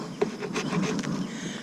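Honey bees in a quiet hive drone in a steady, soft buzz, close to the ear, with a faint knock of wooden hive parts early on.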